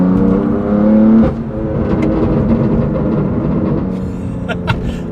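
A BMW M4 GTS with an S55 engine and an aftermarket exhaust holds a deep, steady idle-rev drone that eases back. Irregular crackling burbles pop through toward the end, all close and loud.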